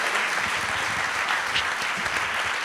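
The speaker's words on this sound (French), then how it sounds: "Merci d'applaudir très fort Vanessa." An evening storytelling event's audience breaks into loud, sustained applause to welcome a speaker, dense continuous clapping throughout.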